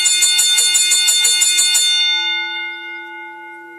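A wrestling ring bell rings rapidly about a dozen times, bright and loud, then stops and its metallic tone hangs and fades out.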